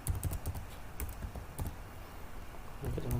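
Someone types code on a computer keyboard in a steady run of light, close key taps, with a few sharper clacks and a slightly busier flurry near the end.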